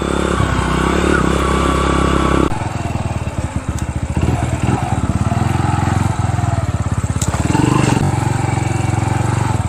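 A rundown motorcycle engine rumbles and putters nearby on a rural road in Leyte, Philippines, with a throbbing, uneven rhythm, its revs rising and falling as it rides along.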